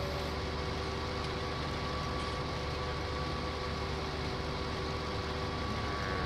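A tractor engine idles steadily in Farming Simulator 19, a constant low drone with faint tonal hum running unbroken throughout, with no talk.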